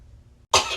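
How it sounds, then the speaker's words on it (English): A woman gives a single sharp cough up close inside a burger restaurant, sudden and loud after a quiet moment. "you ain't better do all this coughing over here"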